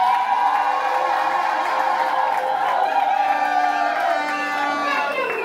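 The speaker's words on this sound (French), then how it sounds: "Et applaudis pour les futurs époux," Wedding guests cheer and whoop for the bride and groom at an official wedding reception, a lively crowd of overlapping shouts and cries that holds steady for several seconds, with some clapping mixed in.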